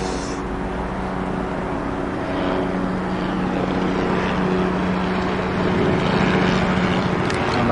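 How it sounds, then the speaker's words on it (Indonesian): A helicopter flies over a busy toll road, its steady rotor drone and engine hum loud and continuous, slowly swelling as it passes, with road traffic underneath. "Nah guys, helikopternya guys."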